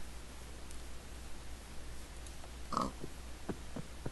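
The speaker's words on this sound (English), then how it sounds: "Got a little oinkers over here." Pigs oinking in the Minecraft video game, a brief cluster of short grunts near the end over a steady hissy background hum.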